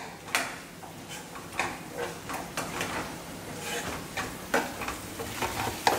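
A spoon scrapes and clacks against a kadai in repeated strokes over a steady sizzle of frying vegetables for kadai paneer, close up.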